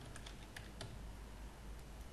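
Computer keyboard typing a search into Google, a quick run of soft, faint key clicks in an irregular rhythm, heard alone without talking.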